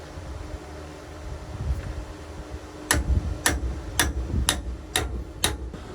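Six sharp metallic hammer strikes on a ball joint separator on a first-generation Toyota Tundra land in a steady, evenly spaced rhythm after a quiet stretch, close and fairly loud.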